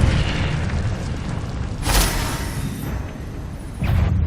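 Fiery Incendio spell blast in the Hogwarts Legacy video game, a dense roaring burst that swells around the middle of the clip over continuous game rumble, with a second burst near the end.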